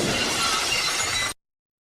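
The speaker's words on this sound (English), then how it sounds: "How about the Stone Cold Steve Austin Glass Shake?" Stone Cold Steve Austin entrance glass shatter effect, a loud, dense crash of breaking glass that sustains for over a second and then cuts off abruptly into silence.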